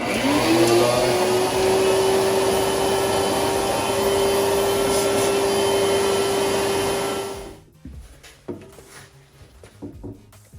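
Vacuum cleaner drawing debris out of a John Deere lawn tractor's gas tank, a loud steady drone with a whine that runs for about seven seconds, then cuts off, leaving quiet clattering and handling noises.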